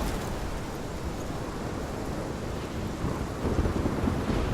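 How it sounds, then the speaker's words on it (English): A video game thunderstorm brings a steady, dense roar of heavy rain with deep rumbling thunder underneath, continuous and loud throughout, with no voices. "This is my storm."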